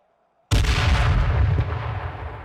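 A grenade detonates in the H1Z1 battle royale, a sudden loud close blast after near silence, with a heavy rumbling low end that decays slowly over the following two seconds. No talking.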